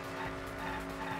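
A car skids past in the video game Danganronpa V3, a steady, loud tire squeal with engine roar lasting just over a second, filling the whole moment with no talk over it.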